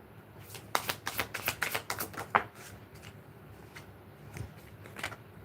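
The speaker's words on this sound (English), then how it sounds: "I'm gonna do a shuffle real quick." A quick run of crisp riffling clicks as cards are shuffled up close, followed by a few softer scattered taps and card handling noises.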